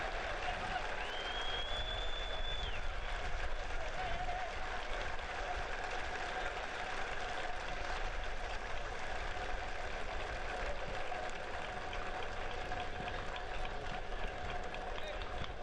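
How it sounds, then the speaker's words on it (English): A stadium crowd at a Richmond Kickers versus Union Omaha soccer match applauds steadily as an injured player is carried off on a stretcher, the distant clapping running under continuous commentary. "The round of applause as Touche is placed onto that stretcher."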